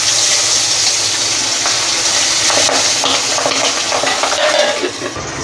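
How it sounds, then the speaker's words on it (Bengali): Pabda fish frying in a pan for a Bengali fish curry, a loud, steady, dense sizzle with occasional crackles and faint utensil clinks, continuous throughout. "মাছটা আমি এবার দিয়ে ভেজে নেব।"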